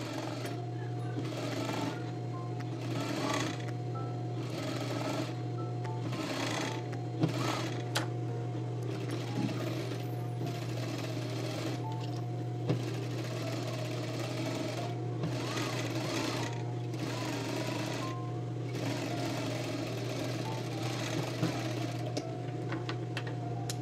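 A sewing machine stitches a seam on a man's shirt, a steady rapid mechanical whir and hum with brief pauses and restarts, close and continuous.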